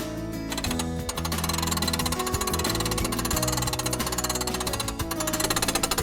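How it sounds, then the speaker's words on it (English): Hand crank raising the roof of a pop-up trailer, a fast rhythmic ratcheting clatter that runs steadily throughout, close and loud with no talk. "So the next step is to crank it up."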